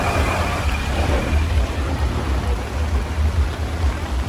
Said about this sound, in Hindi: बारिश बहुत तेज गिर ही रहा है।